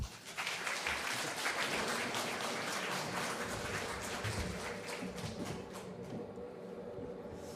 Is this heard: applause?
yes